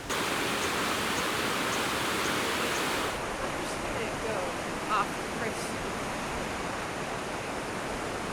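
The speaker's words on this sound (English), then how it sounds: "Here we are on the banks of the Ambato River" The Ambato River in the Andes of Ecuador rushes along in a constant, loud, broadband roar heard from the bank, with no pauses.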